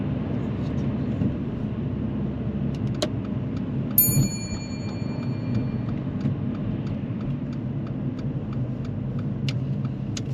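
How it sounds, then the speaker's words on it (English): A car climbs uphill in second gear during a driving lesson in High Wycombe, its engine a steady low in-cabin hum with faint rhythmic indicator ticks and a brief chime partway through, no speech. "Now moving off in second gear is not easy, especially when you're going uphill, but Kellis does manage that really well"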